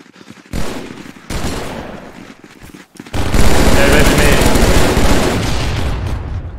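Rapid automatic gunfire from the M7 rifle in the video game Contractors, with short loud bursts early and then a long sustained volley of shots, close and heavy, with a voice talking briefly over it.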